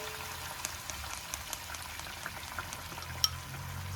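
Beaten eggs with pepper and salt poured into hot oil in a pan, giving a soft, steady sizzle and crackle with a few faint pops, quiet and continuous.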